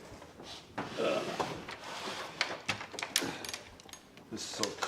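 A foley creep box, a simple wooden box with a rope inside, worked to make door and floorboard creaks, giving several short scraping creaks close up, with someone talking over it.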